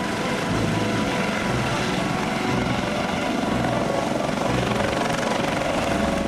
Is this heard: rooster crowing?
no